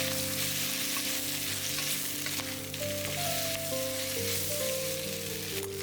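Rice noodles sizzle in hot oil in a wok for pad see ew, a steady loud frying hiss with faint stirring and no talking.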